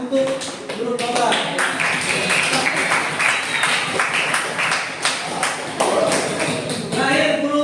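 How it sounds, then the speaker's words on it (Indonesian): Classroom applause for a student group's presentation: dense, steady clapping from many hands, close and sustained for several seconds with voices mixed in. "Kita berikan aplaus lah untuk grup Khobar"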